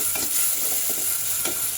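Garlic and onion sizzle in hot oil for tempering boiled lentils, a soft steady frying hiss broken by a few scraping stirs of a spoon in the pan.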